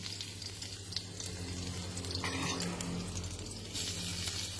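Sponge gourd and garlic frying in a pan give a soft steady sizzle with occasional stirring scrapes and watery splashes over a low hum, faint and close, with no talking.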